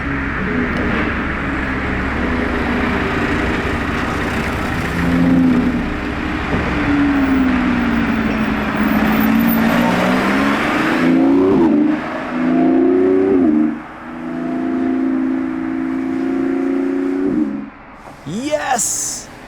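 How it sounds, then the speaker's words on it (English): Lamborghini Revuelto engine revving loudly as it approaches and passes, rising and falling roars over steady traffic noise outdoors, with people talking nearby. "Wait for it, very loud Revuelto incoming."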